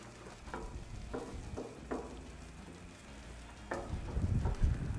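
Piles of hash browns fry on a Blackstone griddle with a soft, steady sizzle, broken by a few sharp scraping taps of a spatula and a louder rush of frying toward the end.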